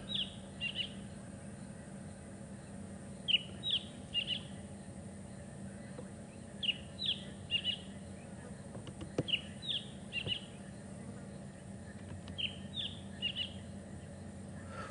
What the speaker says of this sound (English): the fork-tailed drongo sits on top of trees